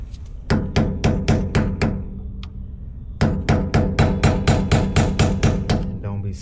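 A hammer strikes a chisel against a seized wheel bearing inner race, sharp loud metallic blows in a rapid steady rhythm, two runs of about eight hits each with a short pause between.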